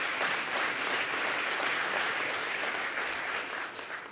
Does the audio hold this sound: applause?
yes